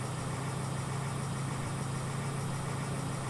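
A tractor engine idles in Farming Simulator 2013, a steady low mechanical hum that holds at an even, continuous level without changes in pitch or load.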